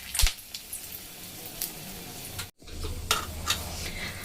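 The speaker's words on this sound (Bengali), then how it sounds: "আমি এখন ফোড়নে দেবো দেখুন দুটো শুকনো লঙ্কা আর দুটো তেজপাতাকে ছিঁড়ে নিয়েছি" Dried red chillies and torn bay leaves crackle and sizzle in hot oil in a pan, a steady close frying hiss with a few sharp spits, cutting out briefly midway before resuming.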